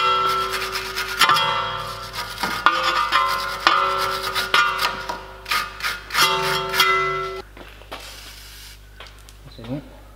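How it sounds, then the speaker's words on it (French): A wire brush scrubs a metal part on a Renault Touran in a garage, making repeated rasping strokes in bursts, with a metallic ring and clatter near the end. "On va aller plus loin, coup de brosse métallique,"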